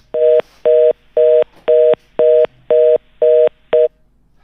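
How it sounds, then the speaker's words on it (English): Telephone line tones interrupt a call: eight loud, evenly spaced electronic beeps, each about a third of a second long, repeating steadily with faint background noise between them. "We got some phone interference here."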